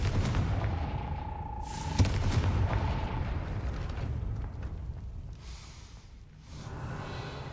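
A Confringo fire spell goes off in the video game Hogwarts Legacy with a booming, rumbling blast that fades into a long noisy wash, with a faint high tone early on.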